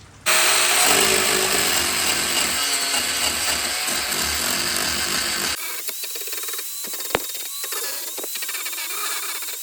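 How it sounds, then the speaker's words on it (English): An angle grinder shaves wood for climbing-wall holds, giving a loud, continuous power-tool whine and rough abrasive grinding that cuts off sharply midway, leaving quieter mechanical handling noise and one brief knock. "I can just go in with the angle grinder"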